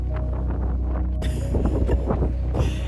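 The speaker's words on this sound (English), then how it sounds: "It's so windy, I've lost my hat twice." Strong coastal wind at Yaquina Head on the Oregon coast buffets the microphone in continuous roaring gusts, with a low rumble throughout and the blasts growing heavier midway.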